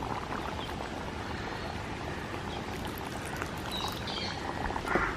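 Thick first-pressed coconut milk pours into a simmering prawn curry as a steady, soft liquid wash that holds evenly for a few seconds, close by, with no voices.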